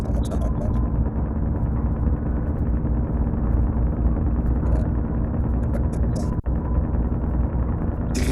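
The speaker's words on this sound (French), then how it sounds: "Entendez le moteur" A heavy truck engine in the Trucker of Europe 3 driving game drones steadily and loud throughout, a continuous low rumble with no talk over it.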